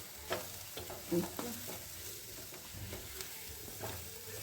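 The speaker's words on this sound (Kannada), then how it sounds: "ಈರುಳ್ಳಿ ಫ್ರೈ ಆಗಿದೆ ಚೆನ್ನಾಗಿ." Onions fry in a pan with green chilies, chili powder and salt for an evening snack. A soft, low sizzle runs throughout, with a few faint stirring taps and no talk.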